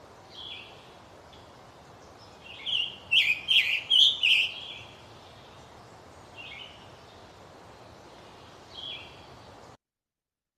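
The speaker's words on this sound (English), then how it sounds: "the song of the scarlet tanager does sound a little bit like a robin" A bird sings a short burst of hoarse, buzzy phrases in quick succession, then a single faint phrase follows after a pause.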